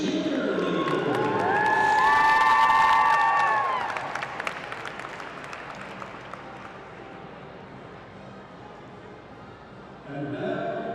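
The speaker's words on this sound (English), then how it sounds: "Let's have a big round of applause for our Morris County senior cheerleaders." A basketball game crowd applauds and cheers for the senior cheerleaders, loud at first with shouting and whistles, then fading to scattered clapping before voices rise again near the end.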